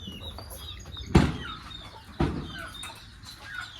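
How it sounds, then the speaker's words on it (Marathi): A hen sitting on her chicks in a village yard clucks alongside other chickens, with two sharp, louder clucks standing out over a low, continuous murmur of fowl sounds nearby. "आता ही कोंबडी बसवलेली आहे पिल्ल्यांकरता"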